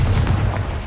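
The Confringo blasting spell from Hogwarts Legacy makes a short, loud, explosive boom with a deep rumbling low end that holds steady for under a second, with no speech.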